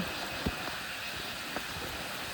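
Cold, heavy rain falling outdoors as a steady soft hiss, with a couple of sharper drop taps standing out nearby.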